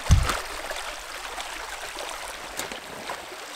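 A river flows near a camping spot, a steady broadband rush of water with a heavy thump at the start, close and continuous throughout.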